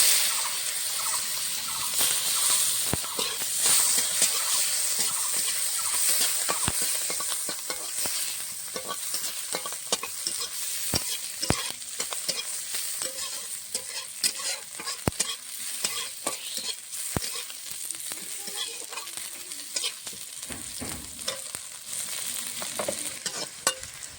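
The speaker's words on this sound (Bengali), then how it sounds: "পেঁয়াজটা ভাজা হয়ে গেছে" Chopped onion frying in hot oil for a small rohu fish curry with potatoes, a dense continuous sizzle with frequent spatula scrapes and taps throughout, close and steady.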